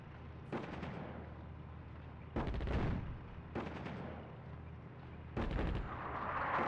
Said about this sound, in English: they're firing artillery on us